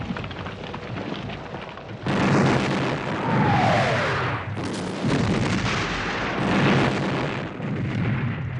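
Artillery cannon bombardment in a Waterloo battle film, heavy rumbling blasts rolling in long overlapping waves, loud and dense, with no voices over it.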